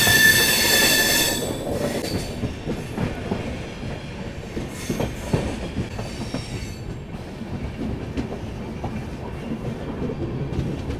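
Gorakhdham Express passenger train running on rails on the New Delhi to Gorakhpur route, a loud steady rumble with wheel clatter and brief squealing, heard close from on board, no voices.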